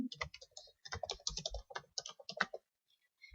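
Quiet clicking of fingers typing on a computer keyboard, a quick irregular run of keystrokes for about two and a half seconds, then it stops.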